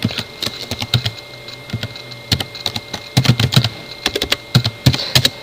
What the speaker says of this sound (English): I'll just type the command config T.